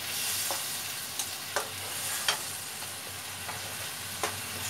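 Mustard paste and mango fry in a pan for a mackerel-style mourala fish curry, a faint steady sizzle punctuated by several soft, regularly spaced stirring scrapes.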